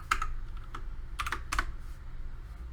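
Keys on a computer keyboard are tapped in quick clusters and short pauses, crisp and close, with no voices over the clicking.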